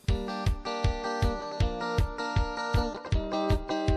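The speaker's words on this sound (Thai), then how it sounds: "เป็นเสียงเรียกเข้าอยู่แล้วนะครับ" A melodic ringtone plays alone, bright repeating chime-like notes in a steady rhythmic pattern, fairly loud and close.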